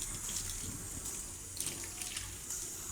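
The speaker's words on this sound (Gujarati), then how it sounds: "થોડુંક પાણી ઉપરથી ઠંડુ નાખી દેવું" Cold water poured over a pot of cooked mung beans and rice in a home kitchen, a soft steady splashing pour that runs evenly throughout at low volume, with no talking.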